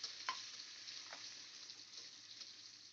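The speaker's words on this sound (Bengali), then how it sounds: "আমাদের তেল গরম হয়ে গেছে, এবার রসুন কুচিটা দিয়ে দেবো। রসুন আর লঙ্কা কুচিটা দুটোকে আমরা হালকা ফ্রাই করে নেব" Minced garlic and chopped chili frying lightly in hot oil for tawa pulao, a steady, soft, fairly faint sizzle that continues evenly throughout with no voices.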